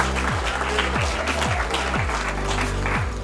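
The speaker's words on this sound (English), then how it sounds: "let's give him a round of applause" Applause from an audience at a book publishing launch event, a steady wash of clapping that holds at an even level throughout, with faint musical tones underneath.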